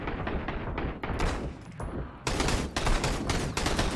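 Gunfire in the Sunkenland survival video game, rapid repeated shots in quick uneven bursts, loud and close, running almost continuously across the clip.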